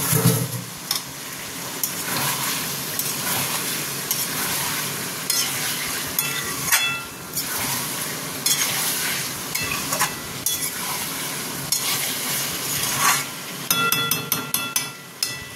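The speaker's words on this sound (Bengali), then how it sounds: "এঁচোড়টা দিয়ে দিলাম, এবার এঁচোড় দিয়ে আমি কষবো।" Young jackfruit stir-fried with spices in a pan, a steady sizzle with repeated spatula scrapes and clinks against the metal, close and continuous, growing busier near the end.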